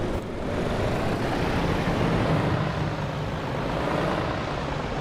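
A truck engine in the TruckersMP driving game, a steady, loud, rough drone with a crackly texture that holds evenly throughout, with no voices.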